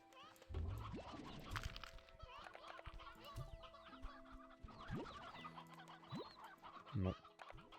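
Chickens clucking in the video game Slime Rancher 2, repeated fowl clucks and squawks over game music and tones, fairly faint, with a person talking over them.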